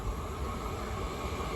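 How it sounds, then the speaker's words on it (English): A London Northwestern Railway Class 350 electric train rolls into Watford Junction station on the West Coast Main Line, a loud, steady rumble with low-end roar and no talking. "arriving in now is going to be the 15:36 London North Western Railway service to Milton Keynes Central"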